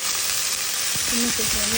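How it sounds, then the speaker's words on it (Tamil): Steady broadband sizzling of onions frying in hot oil fills the clip, with a few faint clinks and a brief tonal squeak partway through. "வெங்காயத்தை போட்டு நம்ம வதக்கிக்கணும்"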